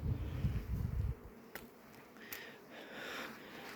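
A weak honeybee colony hums in its hive during a varroa treatment check, a low dense buzz filling the first second before fading to a faint insect drone with a few sharp clicks.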